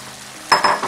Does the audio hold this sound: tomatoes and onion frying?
yes